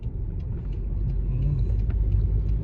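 A car fitted with winter tires climbs a snowy slope in Halifax, Canada; a close, steady engine rumble builds slightly louder as it pulls uphill, with no voices.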